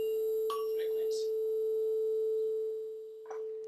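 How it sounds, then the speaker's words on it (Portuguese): Two close pure electronic tones sound together in a classroom physics demonstration, their combined steady hum swelling and fading in slow beats, with a few faint clicks and bumps over it. "quando o som ficou oscilando, fazendo aquele o que isso significa? Que entrou em batimento, tu criou uma onda de amplitude variável."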